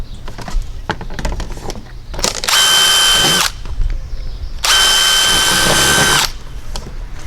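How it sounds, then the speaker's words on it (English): A power drill bores two holes through vinyl siding, with two loud, high-pitched whirring bursts of about one and two seconds each. Softer handling clatter comes before and between the bursts. "Okay, drill our holes."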